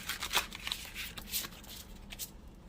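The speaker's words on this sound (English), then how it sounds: "one more shuffle." A new, stiff tarot deck is shuffled, giving a quick series of soft riffling snaps and flutters, close and fairly quiet, with no voices.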